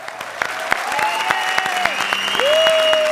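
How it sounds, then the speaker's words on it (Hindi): Studio audience on a Hindi TV comedy show breaks into steady, loud applause that carries throughout, with a sustained musical tone rising over it partway through. "तालियां।"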